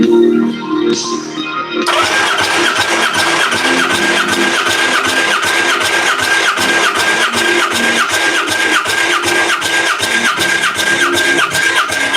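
A car engine in a garage is held at wide-open throttle, roaring loud and close with a steady, pulsing high-rev drone that runs unbroken for about ten seconds after a brief start-up.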